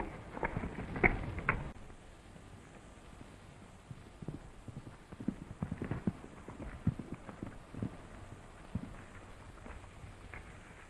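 Horses' hooves clip-clopping as riders move along in an old Western film: irregular, fairly faint hoofbeats over a soft background hiss, heard in scattered clusters throughout.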